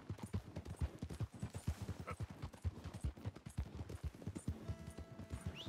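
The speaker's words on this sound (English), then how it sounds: "Definitely a slow horse, but he's a powerhouse." Horse hooves clip-clop at a steady, even walking pace in Red Dead Redemption 2, the steps close and distinct, with a faint tonal hum entering near the end.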